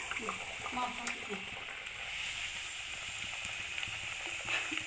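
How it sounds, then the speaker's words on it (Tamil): Ellu vadai, a crisp sesame snack, sizzles steadily as it fries in hot oil, a continuous hiss with small bubbling pops running throughout the clip. "இப்போ வந்து நான் எள்ளு வடையை வந்து ஆயிலில் போட்டுறேன்"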